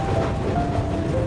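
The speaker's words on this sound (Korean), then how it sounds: "앞에는 기차가 다니고" A train passes in Tokyo at dusk with a steady, close rumble and faint rattling of the cars throughout.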